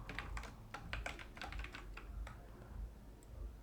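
Fingers type on a computer keyboard, a quick cluster of light key clicks that thins out into a few scattered taps over a low room hum, fairly quiet and without talk.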